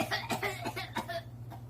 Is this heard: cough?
yes